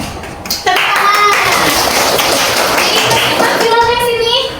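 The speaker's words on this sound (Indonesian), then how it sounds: "Tepuk tangan." A classroom of children clapping their hands together, a loud, dense burst of clapping that carries on for several seconds, with children's voices rising through it.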